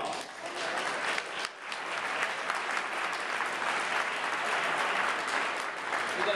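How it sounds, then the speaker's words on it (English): Sustained applause from a crowd of advocates gathered for a state lobby day event, steady clapping throughout with a brief dip near the middle. "So please give yourself a round of applause."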